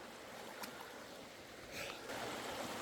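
A stream rushes in a steady, fairly faint wash of running water outdoors, swelling slightly louder near the end.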